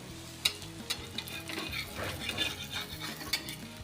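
Oil sizzles steadily around a millet dhapate flatbread frying in a pan, with sharp clinks and scraping of a utensil punctuating the continuous frying hiss.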